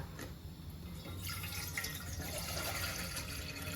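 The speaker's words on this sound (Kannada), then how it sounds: "ಇದರಲ್ಲಿ ಒಂದು 2 ಲೋಟ ನೀರು ಹಾಕ್ಕೊಳ್ಳೋಣ." Water poured into a cooking pot on a gas stove for boiling field beans, a steady splashing trickle that swells after the first second and keeps running close by, with no voices.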